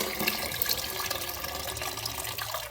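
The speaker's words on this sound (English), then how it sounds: "And all the water's gonna come out." Water rushes out of a toilet tank as it drains during a fill valve replacement. The gushing flow is loud and close and runs steadily through the whole moment with no talk.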